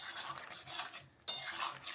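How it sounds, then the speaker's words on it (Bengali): Butter being stirred into winter vegetables cooking in a pan: steady scraping and stirring with a utensil, with a brief gap partway and a sharp clink of metal as the stirring resumes. "বাটারটা একটু মিশিয়ে দিচ্ছি।"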